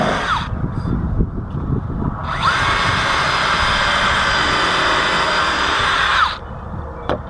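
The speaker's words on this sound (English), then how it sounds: "So I'm going to pre-drill here." A power drill pre-drilling pilot holes into a wooden window box, a loud steady whirring burst lasting about four seconds after a brief earlier spin-up, then stopping, close to the listener.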